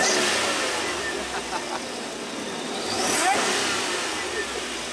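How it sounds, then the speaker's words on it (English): A supercharged Cadillac Escalade engine revs in neutral, a steady mid-pitched roar that swells to a louder rev near the end before easing back. "That's just in neutral revving it up."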